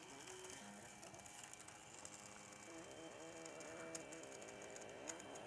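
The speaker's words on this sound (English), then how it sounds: "Print them off here on the thermal ribbon printer" A thermal ribbon printer prints a lo-fi image, giving a continuous mechanical whir with stepping, ratcheting tones and rising pitched sweeps, faint and steady, with occasional small clicks.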